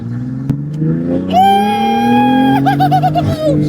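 A BMW F82 M4 engine revs hard, its pitch climbing steeply into a loud, raspy exhaust roar that stutters and pops near the end.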